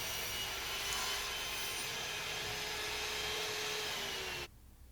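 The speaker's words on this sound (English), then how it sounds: "now I'm trying to cut a 2-meter long piece precisely on the table saw" A table saw whines at a steady, loud pitch while ripping a 2-meter wooden piece, a constant broadband roar that cuts off abruptly near the end.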